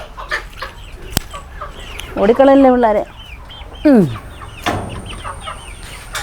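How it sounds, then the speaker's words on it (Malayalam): Chickens in a coop cluck and squawk in loud, drawn-out calls amid soft rustling, with a person speaking briefly between them. "അപ്പോൾ ഇവിടെയും കുറച്ച് കോഴി കിടപ്പുണ്ട്."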